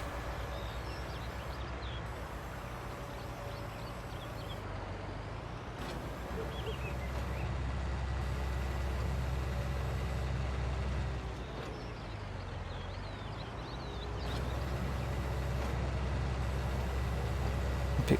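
Farm vehicle in Farming Simulator 19 making silage bales, a steady loud engine drone that rises and falls with throttle, continuous and close throughout.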